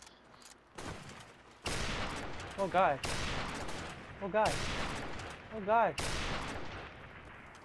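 Rapid bursts of gunfire from Call of Duty Modern Warfare Remastered in a 1v1 quickscoping match, with several loud shot volleys and whooshing effects, while a player briefly exclaims over the action.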